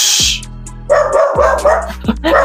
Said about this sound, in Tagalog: Ingay nung aso